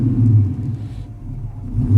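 A car engine, probably flooded with fuel after a looping fuel-priming fault, runs with a steady, rough low rumble that swells louder at the start and again at the end, close by with no voices.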